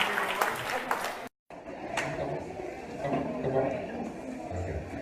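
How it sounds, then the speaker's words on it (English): Scattered applause from a small Kwanzaa gathering, brief clapping at the start before a short dropout, then murmuring voices and background chatter. "Give yourselves a round of applause."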